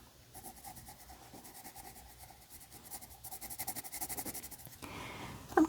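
A colored pencil scratches back and forth on paper in quick, steady strokes, close and dry, building in intensity toward the end.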